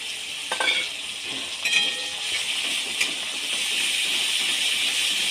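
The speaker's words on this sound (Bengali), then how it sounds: "আমি আগে থেকেই 2 চামচ মতো আদা বেটে রেখেছিলাম, ওটা দিয়ে দেব।" About two spoons of ground ginger paste sizzles in a hot pan for a soybean and potato curry, with steady frying hiss and a few sharp scrapes of stirring, no voices.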